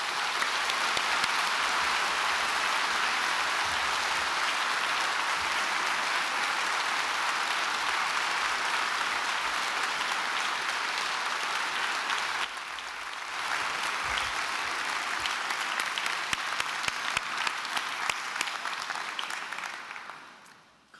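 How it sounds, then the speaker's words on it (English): Long, steady applause from a university graduation audience at Dublin City University's autumn ceremony, dense and even, briefly thinning midway before picking back up and fading out at the end. "And we'll give them all a big round of applause."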